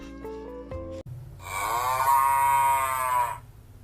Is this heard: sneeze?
no